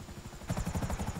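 A helicopter sets down to land in GTA 5 Online, its rotor thumping in a steady rhythmic beat that grows louder and fuller partway through, with no talking.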